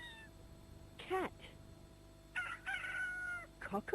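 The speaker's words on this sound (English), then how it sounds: "Cat." A toy sound game plays a cat's meow, a short rising-falling cry near the start, followed by other synthetic animal calls including a rooster-like crow and a drum-like hit, with quiet background hum.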